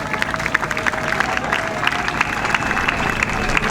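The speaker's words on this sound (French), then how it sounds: "Est-ce qu'on peut les encourager par nos acclamations?" Audience applause at a live event in Kinshasa, a steady wash of crowd clapping with scattered sharper claps, moderately loud throughout, with a faint voice underneath.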